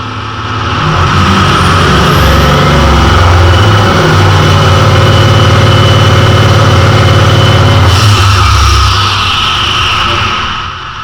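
A Ford 7.3 Powerstroke diesel engine without an intercooler makes a dyno pull, a loud sustained roar whose pitch climbs steadily for about eight seconds before it drops off and winds down.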